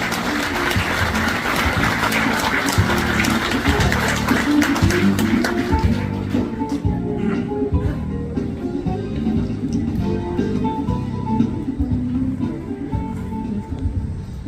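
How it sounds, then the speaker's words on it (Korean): Applause from an outdoor ceremony crowd greeting the county mayor onto the stage, a dense clapping that fades into scattered claps and background murmur. "기념사를 위에 오르시는 구인모 군수님을 박수로 맞이하겠습니다"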